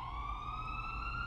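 An ambulance siren wails steadily in city traffic in Burnaby, British Columbia, a clear sustained tone with harmonics over a low road rumble, heard from inside a car.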